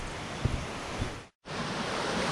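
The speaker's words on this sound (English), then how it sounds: "Muy bonito el río." A river on a trail near the Cueva de los Guácharos in Jardín, Colombia rushes steadily as a broad, constant wash of water, broken by one brief dropout.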